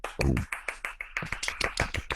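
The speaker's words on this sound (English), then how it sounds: "I clap for myself" A lone man claps for himself, about a dozen sharp, close hand claps in a quick uneven rhythm, fairly soft and dry, with a small vocal sound near the start.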